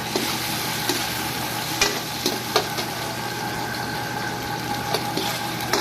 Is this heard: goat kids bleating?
no